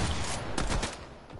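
Short rattle of rapid gunshots in a shooter video game, a few close cracks over a dense background, no talk.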